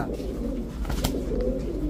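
Pigeons coo at a crowded pigeon market, soft throaty calls repeating over a busy background murmur, with a sharp clack or two in between.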